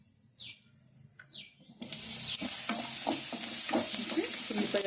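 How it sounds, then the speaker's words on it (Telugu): Onions frying in a pan burst into loud continuous sizzling after a quiet start with faint bird chirps, with spoon scrapes and stirring clatter over the hiss. "ఉల్లిపాయ అది వేగిపోయింది కదా"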